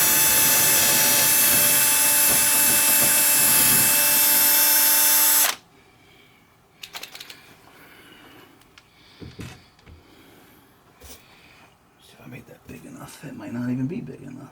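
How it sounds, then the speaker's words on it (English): A loud, steady high-pitched drill whine runs for several seconds while drilling a 1/16 inch hole in plywood, and cuts off abruptly, followed by quiet handling clicks and soft shuffling. "drill a 1/16 inch hole somewhere in here"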